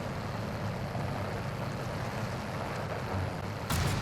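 A truck drives in the Warzone video game with a steady, continuous engine rumble at moderate distance, no voices, and a brief sharp burst near the end.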